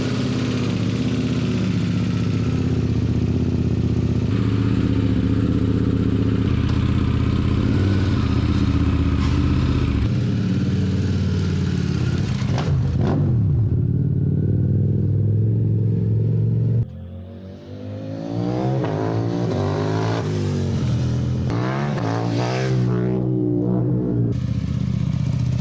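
A 2022 KTM 890 Duke R race bike on a test ride, its engine loud and close, droning steadily then revving up through gears with rising pitch sweeps and a brief throttle drop.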